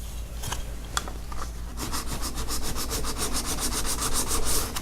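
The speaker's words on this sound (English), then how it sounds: "lay it down on the diamonds and just go back and forth a few times on each side" A steel card scraper rubbed back and forth on a diamond sharpening plate, producing close, rhythmic gritty scraping strokes that begin slowly and then speed up into a steady rapid series, with no talking.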